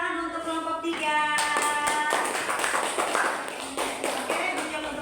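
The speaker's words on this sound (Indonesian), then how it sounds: "tepuk tangan untuk kelompok 3" A classroom of students claps for a small group after a maths presentation, a dense burst of hand claps starting a moment in and continuing steadily to the end, with a voice talking briefly at the start.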